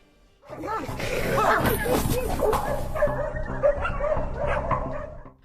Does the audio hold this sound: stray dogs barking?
yes